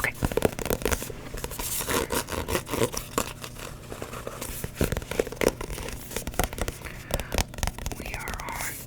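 Affirmation cards handled close up, with crisp papery rustling, tapping and card shuffling in irregular bursts over faint background sound, while a voice whispers softly throughout.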